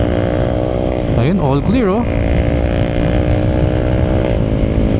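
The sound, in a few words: Honda ADV scooter riding at speed, engine revving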